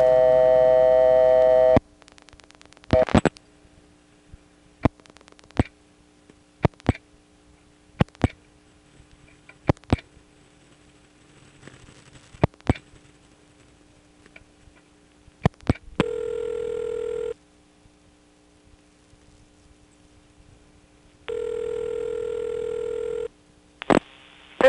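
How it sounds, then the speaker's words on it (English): On a step-by-step telephone exchange, a vacant code call gives two long ringback tone bursts, separated by sharp relay clicks and clacks, close and clear after an initial dial tone. "it's going to go to the vacant code recording, which puts a ringtone on first until the recording gets around to the beginning"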